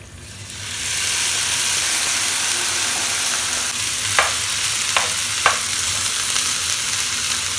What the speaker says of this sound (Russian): На сухую сковородку мы высыпаем наши грибочки, для того, чтобы из них выпарилась вся вода.